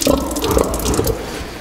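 Water runs steadily from a tap or pipe into a pig pen, a loud continuous splashing and trickling stream heard close up without speech.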